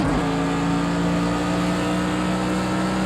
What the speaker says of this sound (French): Elle accélère bien la voiture devant.